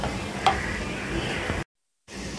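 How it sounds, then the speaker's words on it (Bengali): A jelly mixture boils in a pot on the stove with a steady, hissing bubble and sizzle, one faint clink near the start, before the sound cuts out briefly and returns. "তো ওই যে জেলটা বেশ ফোটানো হয়ে গেছে"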